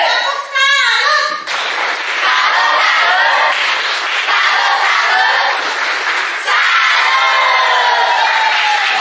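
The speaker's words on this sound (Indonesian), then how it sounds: "Ya, tepuk tangan dulu, masih ingat tepuk tangan?" A class of children claps their hands together in a loud, sustained burst of applause with some shouts and cheers, following a brief adult voice at the start.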